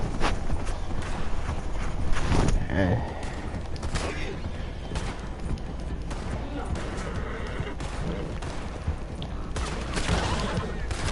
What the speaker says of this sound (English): I can love trying to long distance shoot somebody with a fucking shotgun